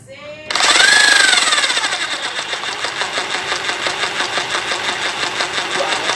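A Mailtank rotary hammer drill starts with a rising whine, then runs steadily with a rapid, even hammering pulse, loud and close, with no talk over it.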